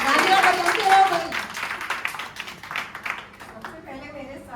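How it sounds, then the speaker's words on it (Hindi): Audience applause at an Independence Day celebration in India, a burst of clapping that fades over a few seconds while someone speaks over it. "तालियां बजाते रहो भाई"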